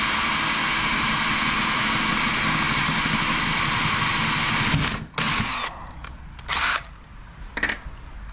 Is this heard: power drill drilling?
yes